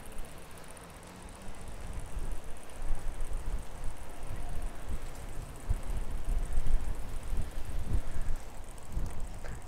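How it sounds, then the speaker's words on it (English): Strong wind buffets the microphone during a bike ride, making gusty low rumbling noise that rises and falls throughout, with no talking. "And it is really windy out."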